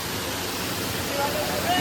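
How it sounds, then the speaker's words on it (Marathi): A waterfall at the Chikhaldara hill station roars in a dense, continuous rush of water, loud and close. "चिखलदरामध्ये आम्हाला वॉटरफॉल दिसलेला आहे."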